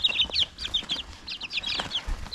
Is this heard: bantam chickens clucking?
yes